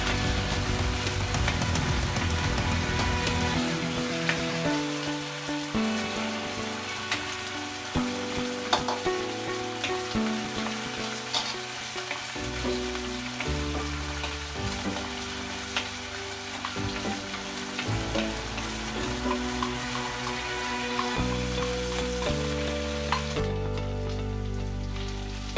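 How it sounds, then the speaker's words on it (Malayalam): Curry leaves fry in coconut oil for a Kerala-style dry chicken, making a constant bubbling sizzle with faint pops, heard close and steady under background music. "കറിവേപ്പില വെളിച്ചെണ്ണയിലൊക്കെ കിടന്ന് ഒരുവിധം അങ്ങോട്ട് ഒന്ന് മൂത്ത് വരുമ്പോൾ"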